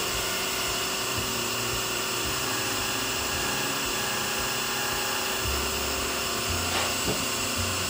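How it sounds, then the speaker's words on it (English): A wood lathe spins a small Christmas ornament at reduced speed while markers add color, giving a steady, unbroken mechanical hum and whine that fills the whole stretch, close and fairly loud, with no voices. "Slow the lathe speed down a little bit."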